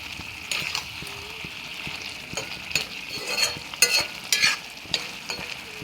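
Water poured into a sizzling pan of dried fish curry gives steady frying hiss with scattered pops and crackles, close and moderately loud, with no talking.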